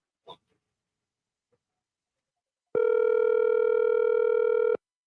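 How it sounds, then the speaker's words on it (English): On a radio show, an outgoing phone call sounds a steady electronic ring tone for about two seconds. It follows a short click and silence and is clear and alone. "So we calling Dr. Selwyn Kojo."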